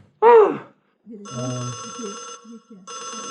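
An old-style telephone bell rings twice in a guest house setting, bright repeated trills coming back after a short gap, following a sharp gasp and a brief spoken line.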